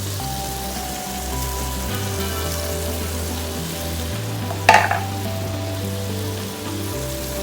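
Squid (calamari) and prawns fry steadily in a pan with a seasoning of salt for spaghetti frutti di mare, giving a continuous close sizzle with a brief louder clatter of stirring partway through, and no talking.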